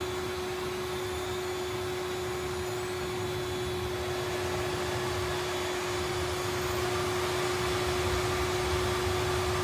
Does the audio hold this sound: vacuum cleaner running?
yes